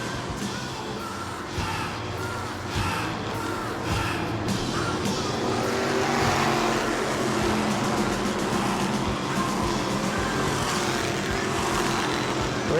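Race cars lap the New Smyrna track during World Series night racing, making a continuous loud engine roar that holds steady throughout with a dense, distant-to-mid field of sound.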